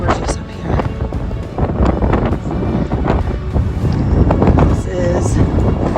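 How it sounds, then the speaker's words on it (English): Strong gusting wind buffets the microphone on a Pyrenees mountainside, a loud, continuous broadband roar that swells and dips throughout. "This wind is insane."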